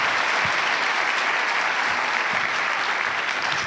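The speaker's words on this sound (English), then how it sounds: "Clap, clap, clap, clap, clap for them." Audience applause for an award winner at the 2024 Ambies podcast awards: a sustained, even round of clapping from a crowd, fairly loud and unbroken for the whole stretch.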